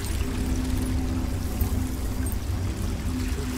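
Flowing water in the video game Baldur's Gate 3, a steady, loud rushing and pouring that runs on without a break, heavy in the low end, with no voices over it.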